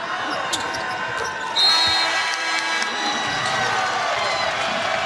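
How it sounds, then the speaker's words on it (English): Arena crowd at a Providence vs DePaul NCAA men's basketball game cheers and roars steadily, swelling louder partway through, with sneaker squeaks and court noise mixed in. "And now the crowd comes alive"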